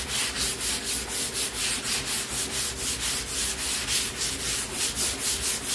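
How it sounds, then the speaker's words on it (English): Close, even strokes of sandpaper scraping across bare wood of an old boat, a regular back-and-forth scratching rhythm that continues without pause. "We're just sanding."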